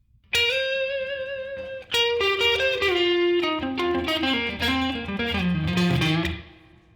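Solo electric guitar plays a slow blues phrase with a long sustained bend, then descending notes sliding down, with light overdrive.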